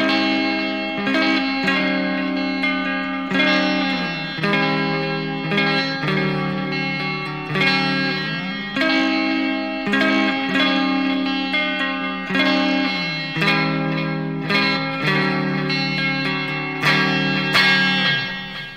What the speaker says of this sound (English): I think it's actually a pretty decent ambient clean tone